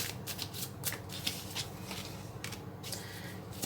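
Tarot cards are shuffled and handled close by, a quiet run of soft, repeated riffles and flicks with brief louder snaps scattered through.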